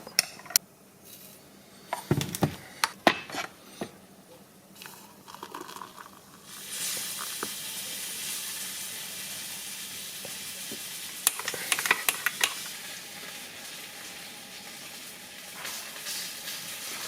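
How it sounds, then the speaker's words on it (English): Egg frying in a hole cut in a slice of bread in a hot pan, a steady sizzle rising after a few sharp clatters and knocks, with a brief burst of crackle midway. "basically I'm gonna take my bread, cut a hole in it, drop my egg into the hole, fry it that way"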